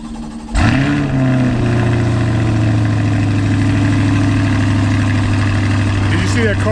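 A Jeep engine turns over and settles into a steady, close idle, with a low constant rumble that holds for several seconds and a faint clatter near the end.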